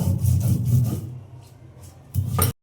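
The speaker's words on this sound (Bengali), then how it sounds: "পটলের শাঁসটা আমার বাটা হয়ে গেছে" Pulp of pointed gourd being ground by hand on a stone for a stuffed gourd dish, giving close, steady back-and-forth rasping strokes with a brief pause before a final burst that stops abruptly, no voices.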